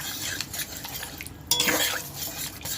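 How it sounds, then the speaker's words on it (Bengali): A spatula or ladle stirs chana dal in a pot, close-up scraping and clinking of metal against the pan in a steady working rhythm, with a louder burst of stirring midway. "আমি খুন্তি বা হাতা দিয়ে এইরকমভাবে একটু ডালটা ঘেটে ঘেটে দেবো"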